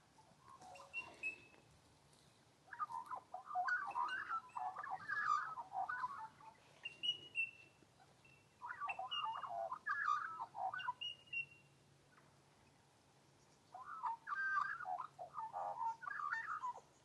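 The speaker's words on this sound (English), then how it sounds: "really beautiful sounds of the birds" Birds call outdoors at Lanyon Homestead in Australia, with bursts of chirping and twittering phrases that recur every few seconds over a soft, steady background hum, moderately distant and with no talking.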